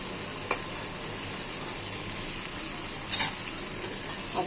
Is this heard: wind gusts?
no